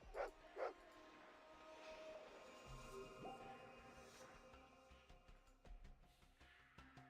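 A puppy in the retro game Fallout 2 gives two sharp yips near the start, then a few softer scattered barks and clatter under steady game ambience.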